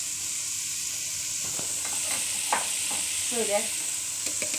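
Onions, garlic, and red and green peppers sizzle steadily in a frying pan for sautéed meat, with a constant hiss close by, occasional stirring scrapes, and a brief spoken word.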